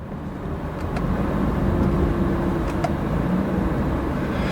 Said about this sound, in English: So you can see that here when I'm downshifting.